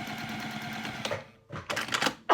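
A sewing machine top stitching a wallet panel, a short run of quick mechanical stitching, then a brief pause and a few rustling handling noises.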